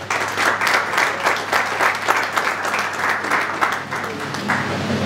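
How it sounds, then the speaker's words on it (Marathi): Loud, sustained audience applause at an event honouring a visiting guest, steady dense clapping filling the whole stretch without pause. "तर प्रथमतः आपण जोरदार टाळ्या वाजवूया"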